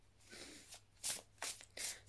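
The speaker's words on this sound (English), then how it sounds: "I'm making a big mess of shuffling today." Oracle cards are shuffled by hand in short, fumbled bursts, giving several quiet riffling swishes and flicks at close range in a hushed room.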